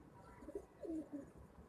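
A pigeon held in the hand gives a few soft, low coos, faint and close amid quiet background hiss.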